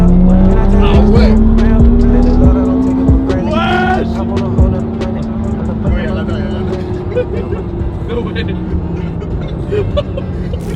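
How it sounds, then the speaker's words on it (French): A LaFerrari hybrid supercar's engine revs loud and close, pitch climbing steadily, dropping at a gear change and then pulling hard again as it accelerates. "la Ferrari, je suis bluffé. Un son de dingue, des accélérations incroyables en combinant l'électrique et le moteur"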